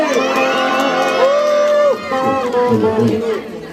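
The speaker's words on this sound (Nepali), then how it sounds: "जोरदार ताली" A crowd at a live band performance cheers and shouts for the band members, loud and close, with a voice speaking over the noise.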